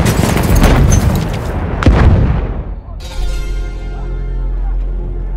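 A grenade blast and gunfire tear through a Battlefield 1 defensive operation in the Brusilov Offensive: loud booming bursts early, a sharp crack near two seconds, then a lingering rumble with a ringing tone, shouting voices beneath.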